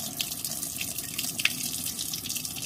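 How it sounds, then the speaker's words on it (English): Basmati rice being rinsed with running water in a kitchen, a steady broadband rush of tap water with small splashy bursts as grains are swished, close and continuous throughout with no talking. "I usually wash my rice twice"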